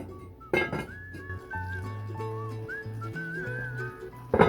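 A lid clinks onto a cast iron pan holding a cooking zucchini and spaghetti one-pot meal, with one sharp metallic clink near the start and another at the end, while a person whistles a tune throughout.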